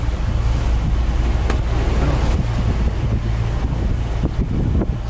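Strong wind and surf roar steadily around a sailing yacht at sea, a loud, dense rush of breaking waves and gusting air buffeting the microphone, with no voices.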